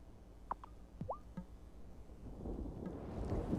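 Thunder in the video game Wylde Flowers, a low rumble swelling gradually toward the end and sitting alone after a few brief chimes from the game.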